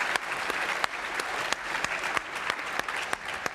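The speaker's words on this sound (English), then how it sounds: "Yes, round of applause, absolutely." An audience breaks into a round of applause at a principals' dinner event, steady dense clapping heard from a moderate distance, fairly quiet and continuous with no talk over it.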